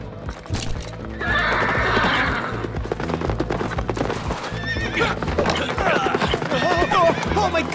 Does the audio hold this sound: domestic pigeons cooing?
no